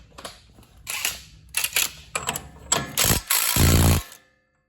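Big socket wrench loosening a front wheel bearing nut, several close bursts of ratcheting clicks ending in a heavier grinding turn before stopping.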